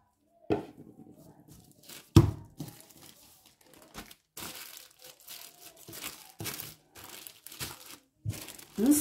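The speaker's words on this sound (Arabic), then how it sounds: "غنديروها في كيس بلاستيكي وغنخليوها نص ساعه" A plastic bag crinkles and rustles in bursts as pastry dough for a savory quiche is gathered and put inside, the sharp crackles coming close and intermittent with quiet gaps between.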